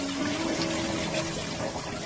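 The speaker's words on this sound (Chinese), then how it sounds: "再把它倒入清水里，清洗干净， 多洗几遍，清洗干净，" Chicken legs are rinsed in clean water after a flour coating, giving a steady close splashing and running-water wash with no talk.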